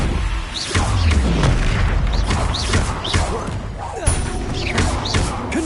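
Fiery blast spells from the Hogwarts Legacy video game burst repeatedly in quick succession, loud booming thuds and crackling impacts over dense combat noise, with faint voices in the mix.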